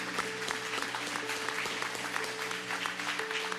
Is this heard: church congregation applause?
yes